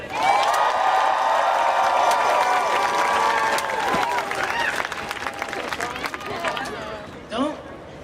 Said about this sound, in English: Let's get one more round of applause for Kate.